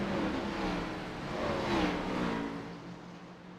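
Race car engines at Kansas Speedway drone steadily with rising and falling pitch sweeps as cars pass, a dense broad roar that swells mid-way and eases toward the end.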